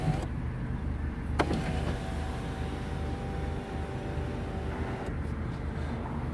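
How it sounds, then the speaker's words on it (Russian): A Scion tC's electric sunroof motor whirs as the roof panel opens, a steady mechanical hum running several seconds between a click at the start and one near the end, over low cabin noise. "Вот как люк открывается."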